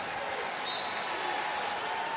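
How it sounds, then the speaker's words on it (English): A college basketball crowd at a Texas Tech versus Oklahoma men's game gives a player a round of steady applause, a broad even clapping wash from the arena with a commentator talking over it. "Moretti comes out to a hand from the crowd"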